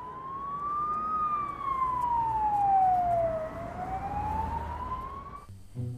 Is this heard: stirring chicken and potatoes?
no